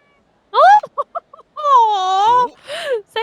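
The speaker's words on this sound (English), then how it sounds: "That's a wildcat." Wildcat meowing in the video game Yakuza 3 Remastered: a loud, close, strained yowl, then a few short chirping cries, then a long drawn-out wailing meow and a final shorter cry, with nothing else behind it.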